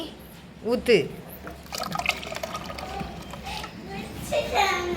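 Water pours and trickles into a pot in bursts, close by, while a person talks over it.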